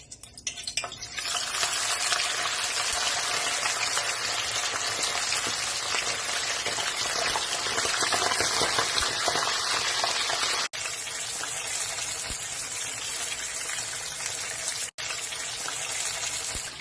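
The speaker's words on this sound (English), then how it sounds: "as the fish fry" Red snapper fillets fry in hot oil, a loud, dense, continuous sizzle and crackle with no speech, briefly broken by a couple of sharp cuts.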